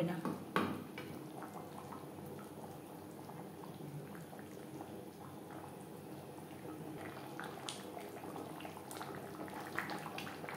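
Pangas fish curry with potatoes simmers in gravy, giving a steady, close bubbling that runs unbroken at an even level with no talk.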